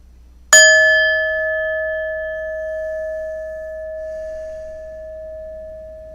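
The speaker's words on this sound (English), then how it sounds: "My trusty bell." A single meditation bell is struck once, giving a bright ding that rings out in a clear, steady tone and decays slowly over several seconds in a quiet room.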